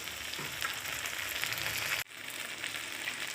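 Ground coriander-cumin, turmeric and ginger-garlic paste frying in a pan, giving a steady, close hiss of sizzling oil with a brief cut midway and no voices.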